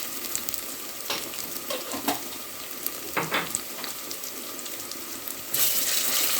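Ginger garlic paste frying in oil in a pan for vegetable pulao, a steady close sizzle with occasional soft spoon clicks and stirring scrapes, swelling louder near the end.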